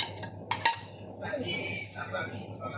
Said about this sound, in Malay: Saya masukkan umbut rumbia.